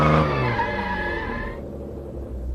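A car brakes suddenly with a harsh tire screech over the engine's rumble, loud and close, the squeal cutting off after about a second and a half while the low vehicle noise carries on.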